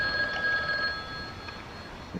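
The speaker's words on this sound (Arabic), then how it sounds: "التليفون بيرن" A telephone ringing in the horror video game The Guest, a thin high electronic ring over a soft hiss, faint and steady, with no talk over it.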